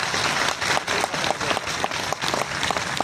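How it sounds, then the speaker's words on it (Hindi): Audience clapping at a Hindi poetry gathering in Bhagalpur, brisk applause with distinct individual claps audible in a fairly close, lively burst. "एक बार जोरदार तालियां"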